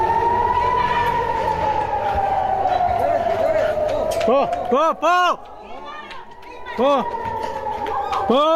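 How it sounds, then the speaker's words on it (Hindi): Air raid sirens wail across Tel Aviv during a rocket attack, a loud rising and falling tone with overlapping sweeping siren calls. "इजराइल की राजधानी तेल अवीव सायरनों की आवाज से गूंज उठी।"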